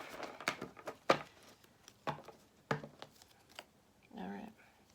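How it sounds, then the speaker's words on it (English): Oracle cards being shuffled by hand, a series of short sharp riffling snaps and soft slides at close range, quiet and intermittent. "I'm going to shuffle on camera."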